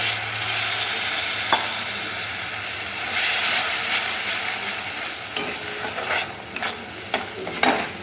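Spices frying in a pan on a home stove sizzle steadily with soft stirring scrapes, then a brief louder hiss and scattered clinks near the end as water goes in.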